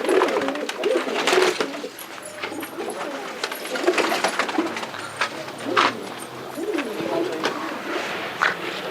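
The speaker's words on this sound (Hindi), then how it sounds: "ये बाजी वाले कबूतर हैं जो बाजी में परफॉर्म करते हैं।" Performing pigeons of the kind flown in competitive pigeon contests coo softly and repeatedly near a home coop. Their low, rolling calls come in overlapping bursts, with a voice talking nearby.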